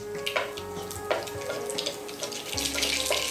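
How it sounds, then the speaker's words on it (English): Mustard and cumin seeds crackle and pop in hot oil over a low flame, a steady sizzle with scattered sharp pops, close and moderately quiet with a faint hum underneath. "add the mustard seeds and cumin seeds. Okay? And allow them to pop up nicely."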